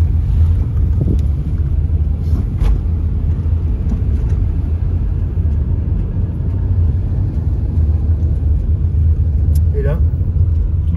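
A rally car tears past along a tarmac stage road during the 205 Alpina Raid, a steady loud engine rumble filling the whole stretch while spectators talk nearby.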